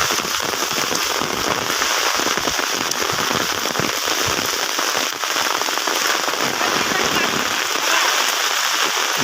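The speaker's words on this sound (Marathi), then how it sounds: "पाऊस पडतो" Steady, dense rain pattering on surfaces over paddy fields during rice planting, a continuous hiss with scattered crackling drops throughout.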